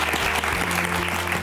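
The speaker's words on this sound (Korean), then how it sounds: "오늘 좋은 영향 끼쳐주신 우리 이하림 씨에게 다시 한번 큰 박수 보내주시기 바랍니다" A studio audience at a televised lecture on retirement and real estate breaks into sustained, dense applause, loud and continuous throughout, with a low musical hum beneath.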